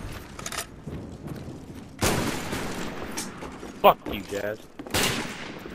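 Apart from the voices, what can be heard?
shotgun gunfire in the video game Black Ops 1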